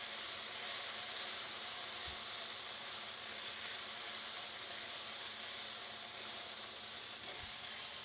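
A coconut mix for a fish curry with mango sautéing in a pan, a steady broadband hiss and sizzle throughout, with a couple of faint low knocks and no voices.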